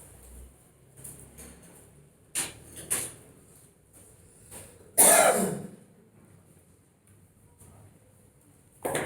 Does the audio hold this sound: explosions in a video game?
no